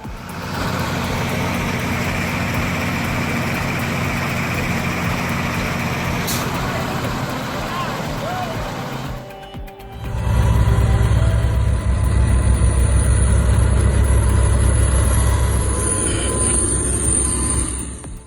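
A heavy tractor diesel engine roars loudly and steadily, straining under load while pulling a Scania truck, then surges louder after a brief dip with a hiss like air brakes.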